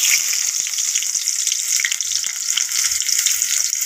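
Chopped onion hits hot oil in a pan and sizzles loudly and steadily, a close, bright frying hiss with faint clicks throughout.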